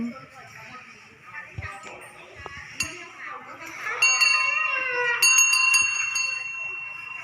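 An ice cream vendor's bell rings out in bright, repeated metallic tones that grow louder in the second half, mixed with voices and high, cat-like cries nearby.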